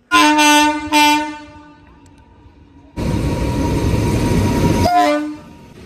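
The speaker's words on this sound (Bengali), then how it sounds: "আমাদের ট্রেন ঢুকছে, দেখাই যাচ্ছে না, হর্নের সাউন্ডটাই শুধু পেলাম" A train horn blasts loudly twice in quick succession as the Lalgola Passenger train arrives at Payradanga station, then a rushing rumble of the passing train, followed by another horn blast.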